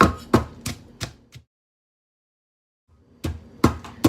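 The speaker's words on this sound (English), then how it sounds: "And I add some lemongrass and Thai chili. Smash." Lemongrass and Thai chili smashed by hand for a Lao dish: four or five sharp, close pounding thuds in quick succession, then a pause of silence, then another burst of blows.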